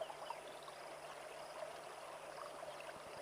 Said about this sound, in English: you get the wonderful sound of the river, the flowing water